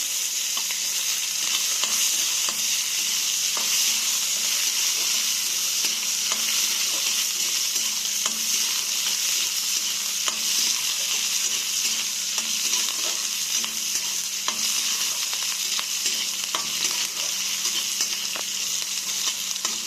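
Onions sizzle steadily in a hot pan for a broiler chicken curry with potatoes and tomatoes, a dense continuous frying hiss with faint scattered crackles and no voices.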